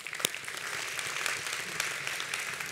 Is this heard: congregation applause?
yes